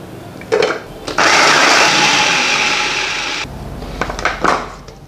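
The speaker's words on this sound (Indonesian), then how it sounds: "Di sini saya akan menggunakan chopper." An electric chopper whirs loudly for about two seconds while grinding a spice paste for spicy tofu comro, its motor tone easing slightly before it cuts off, with brief clatter of handling before and after.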